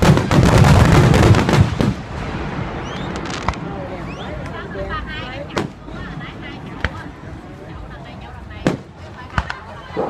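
A fireworks display in Glendale Heights, Illinois, pops and booms at a distance, sharp scattered bangs after a dense crackling burst at the start, with people talking in between.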